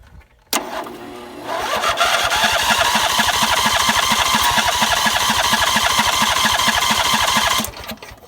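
An old John Deere engine cranks over steadily after a sharp start, its rapid rhythmic chugging loud and close for several seconds before it stops, with no talking.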